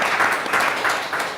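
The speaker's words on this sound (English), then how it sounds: "So please give them a warm round of applause." A warm round of audience applause at an arts and innovation panel event, a dense, fairly loud wash of clapping that stays steady through the brief moment.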